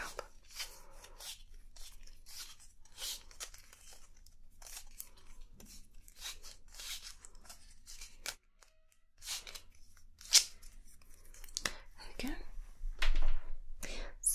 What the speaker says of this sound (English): Let me just roll my measuring tape back up.